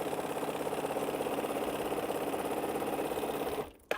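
Sewing machine stitching strips of African Ankara fabric scraps into a string quilt border, running steadily and close by with a fast, even stitching pulse for about three and a half seconds, then stopping abruptly, followed by a brief handling noise.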